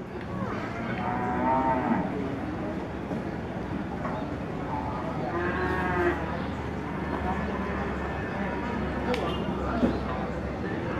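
Water buffalo low repeatedly at a busy livestock market, with long moans rising over a constant crowd murmur and other animal calls.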